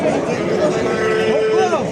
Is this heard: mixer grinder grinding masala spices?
no